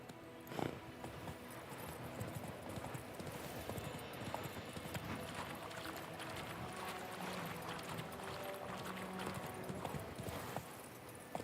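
Hooves of the horse Roach in The Witcher 3 clip-clop in a steady trotting rhythm, close and continuous, over a busy game soundscape with a brief whinny-like burst near the start.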